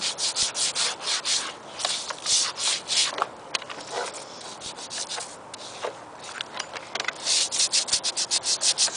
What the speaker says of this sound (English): So I'll probably keep on scrubbing this down.